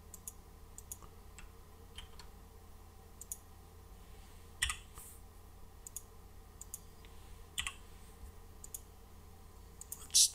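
Computer mouse clicking while building a simple hotel software application: faint, repeated sharp clicks at irregular intervals over a quiet room hum, with a slightly louder double click at the end.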